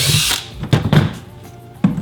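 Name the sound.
power drill drilling through a pipe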